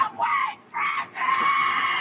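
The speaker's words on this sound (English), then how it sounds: "It is genuinely impressive how she is able to scream this loud, be this angry, without, like, passing out" A woman screams angrily in three long, strained, high-pitched bursts, loud and close, with brief gaps for breath between them.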